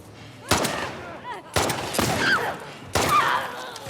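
Gunfire in the video game The Last of Us Part II: three sharp, loud shots spaced about a second apart, each with a ringing tail, and a faint voice between them.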